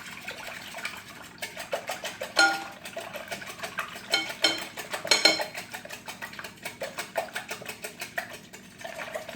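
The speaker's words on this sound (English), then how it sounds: "you can use a fork for this as well, but a whisk really makes quick work of it" A metal whisk beats eggs for a breakfast casserole in a bowl, producing a fast, steady rhythmic clinking and scraping, close and moderately loud without any talk.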